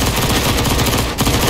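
Rifle gunfire rattles in Counter-Strike on the Dust II map. Loud, rapid automatic bursts keep up almost without pause, with one brief gap.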